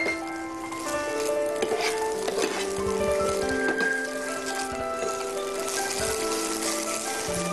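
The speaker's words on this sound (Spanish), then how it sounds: "Basta con revolver un poco." Dried shrimp and mung bean sprouts are stirred in a hot pan, making a steady close sizzle and crackle with occasional scraping, with no talking.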